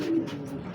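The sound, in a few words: pigeons cooing while feeding with chickens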